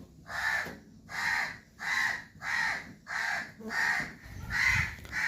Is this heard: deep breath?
no